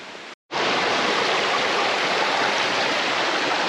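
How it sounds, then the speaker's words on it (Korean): A mountain valley stream flows beside a forested descent trail on Gamaksan, a steady, full rush of water heard close and continuous after a brief moment of silence at the start. "왼쪽으로는 또 계곡이 있어서 계곡물 소리가 또 잔잔하게 들려오고 있습니다"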